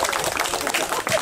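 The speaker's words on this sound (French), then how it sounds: "Applaudissements, s'il vous plaît." An audience applauding at a municipal ceremony in Cholet honoring young graduates and 2023 retirees, a brief, steady wash of many hands clapping at close range.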